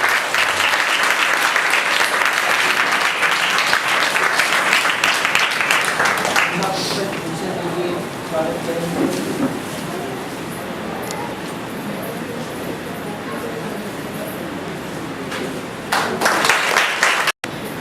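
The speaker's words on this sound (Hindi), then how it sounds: "मैं आप सबको जोरदार तालियों से उनका स्वागत करने के लिए अनुरोध करता हूँ" An audience at a health talk on the Gita bursts into loud, sustained clapping to welcome the speaker, a thick roar of applause that gradually thins into scattered claps before a short final swell.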